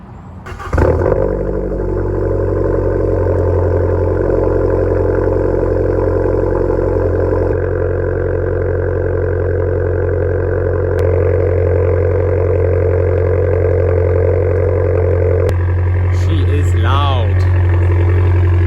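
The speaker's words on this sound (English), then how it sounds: "this is what it sounds like normally when it's just idling" An Abarth 595 engine idles in a loud, steady, close drone that holds for nearly twenty seconds, with a brief higher warble near the end.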